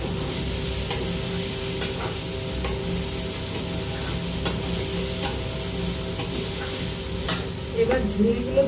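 Potatoes and onions fry in a hot pan, with a steady close sizzle under regular scraping and stirring strokes throughout.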